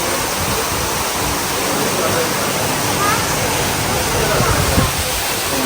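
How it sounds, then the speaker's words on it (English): A huge indoor waterfall inside a hotel in Bali, a loud, constant, broadband rushing roar of falling water, close and unbroken. "It's a huge waterfall."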